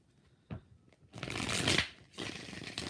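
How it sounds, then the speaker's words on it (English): Tarot cards get shuffled twice, beginning with a few soft taps and then two sustained, papery riffle bursts at moderate closeness with no talking. "Let's shuffle it twice."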